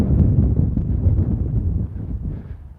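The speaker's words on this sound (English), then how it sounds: "Yeah, it just all of a sudden got windy out here." Strong wind buffets the microphone with a loud, low, rumbling roar that gusts unevenly and eases slightly toward the end.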